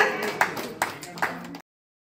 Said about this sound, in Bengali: সবাই একটু জোরে হাততালি হয়ে যাক